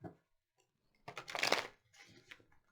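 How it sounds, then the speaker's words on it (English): A deck of tarot cards being shuffled, one brisk riffling burst followed by a shorter, quieter shuffle. "So I have 4 shuffles."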